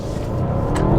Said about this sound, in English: driving the Panamera Turbo